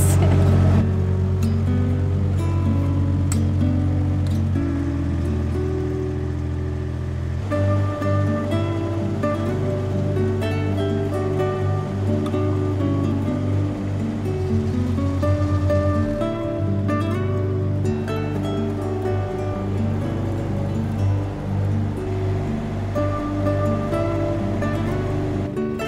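A canal narrowboat on the Llangollen Canal speeds up, its steady engine chugging close by with a low continuous drone, no talk.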